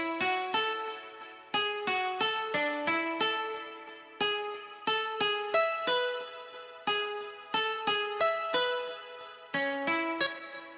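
A basic DirectWave guitar layered with a Nexus dance guitar plays a bright, plucky melodic riff of short repeated notes in a bouncy rhythm, each decaying quickly, loud and alone.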